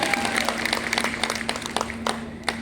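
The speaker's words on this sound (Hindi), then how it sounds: "एक बार ताली बजा के बता दो यार" An audience claps together at a Hindi comedic poetry recital, a dense steady burst of applause in a hall with a faint hum underneath.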